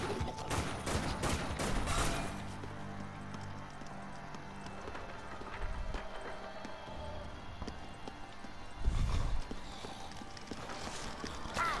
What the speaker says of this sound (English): One of the zombies shooting at me